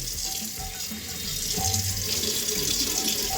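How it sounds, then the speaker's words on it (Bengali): Tap water runs steadily into a washbasin being cleaned, a close, even splashing stream with no voices. "তো চলো বেসিনটাও একটু পরিষ্কার করে নিই।"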